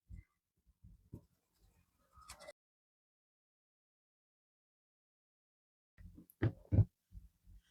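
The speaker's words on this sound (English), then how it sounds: "I'm just gonna move this bit of paper towel around a bit at a time." Soft rustles and dabs of paper towel being shifted over resin art, sounding in scattered short bursts at close range, then a long quiet pause before a louder cluster of scuffs near the end.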